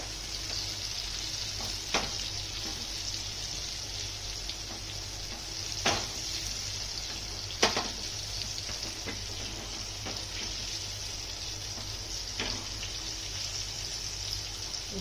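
Raja Rani fish frying in oil on a flat griddle, a soft, steady hiss with a few sharp spatters and pops scattered throughout.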